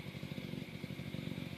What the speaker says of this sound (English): but that's a motorcycle.